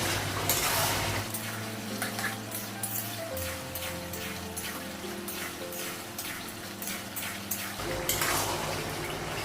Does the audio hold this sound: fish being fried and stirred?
yes